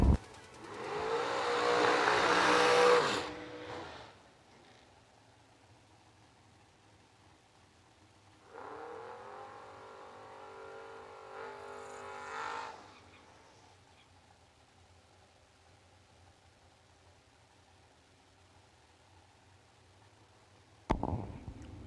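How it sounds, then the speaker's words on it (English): Drag racing cars, including a dragster, rev their engines in bursts: a loud, raspy roar at the start, a quieter rising engine note midway, then a sharp burst at the end, with silence between. "Dennis Rock and his dragster, dial to 463."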